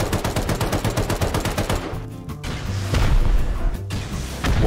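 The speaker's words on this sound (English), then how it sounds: "Careful of the shotgun trap" Rapid bursts of gunfire ring out in the survival game Rust, a fast rhythmic volley that gives way to a few heavy booming blasts, loud and close with no talking.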